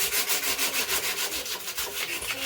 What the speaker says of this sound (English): we're going to rub it down. A nice bit of wet and dry.